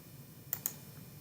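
Two quick, faint computer mouse clicks in close succession, crisp and sharp against a quiet background hum, with no voices.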